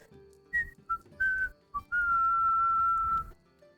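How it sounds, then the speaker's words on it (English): A person whistles a short, wavering tune: a few quick chirping notes followed by one long held tone, heard close and alone over faint background noise. "And she whistles."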